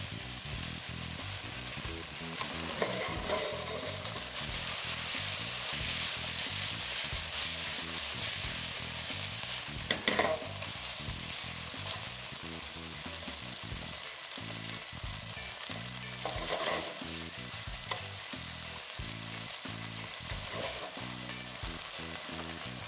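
Thin beef slices fry in a pan with a continuous close sizzle and crackle, broken by occasional stirring scrapes and one louder clatter, with no talk.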